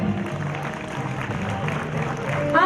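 Parents clap for students at an SESS school graduation day, a steady, moderately loud wash of applause from a seated crowd that swells slightly toward the end, with a voice speaking over it.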